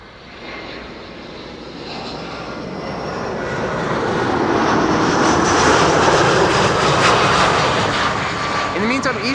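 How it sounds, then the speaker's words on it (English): An EasyJet airliner landing at Schiphol on runway 06: a broad jet engine roar swells steadily from moderate to loud and holds near its peak, with a whining tone above the rumble. "In the meantime, EasyJet is landing over here."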